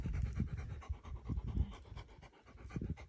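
A dog pants close by outdoors, rapid rhythmic breaths pulsing steadily for a few seconds with no talk over it.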